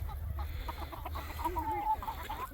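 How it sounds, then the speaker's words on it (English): Chickens, including Polish and Silkie breeds and a rooster, cluck and murmur nearby in a busy coop, with a brief wavering call standing out over low rumbling background noise. "Look at that rooster."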